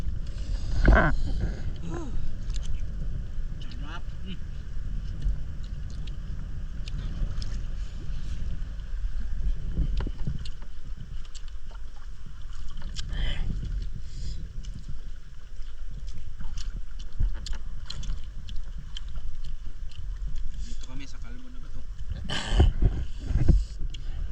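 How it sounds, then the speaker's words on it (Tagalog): Steady strong wind buffeting the microphone, a constant broadband roar with occasional gusts and rustles, no voices. "Lumalakas na naman yung hangin"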